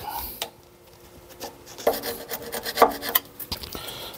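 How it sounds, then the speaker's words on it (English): A wood chisel scrapes old gasket material off a Morris Minor carburettor, giving soft, uneven rasping strokes with small clicks, quiet and close, with no voices. "get my scraper, which is my best wood chisel for doing my joinery work"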